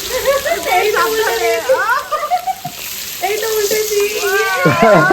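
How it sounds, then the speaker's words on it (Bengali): Hilsa fish frying in a pan gives off a steady sizzle that runs beneath near, continuous conversation for the whole stretch. "ইলিশ মাছটা আমি এখন ফ্রাই করছি"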